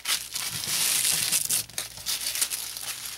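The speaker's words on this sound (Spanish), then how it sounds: "Lo doblan, lo vamos a doblar en varias partes" Crinkly Chinese tissue paper is folded by hand, giving close, continuous rustling and crackling with brief pauses and no talk.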